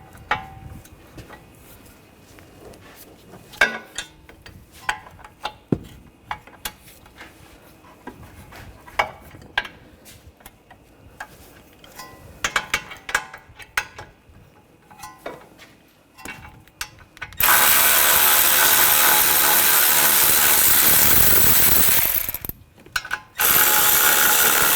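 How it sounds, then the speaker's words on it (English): A hand ratchet with an 18mm socket loosens the caliper bracket bolts on a 2013-2022 Buick Encore front brake, clicking in close repeated strokes, then a loud steady rushing noise takes over near the end. "Take these two bolts out. Use a 18mm socket."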